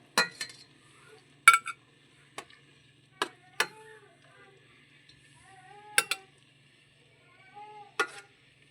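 Cooked chicken pieces are lifted from a pot of chicken soup with a metal spoon, giving a series of sharp clinks and taps spaced a second or so apart, with soft liquid sounds in between.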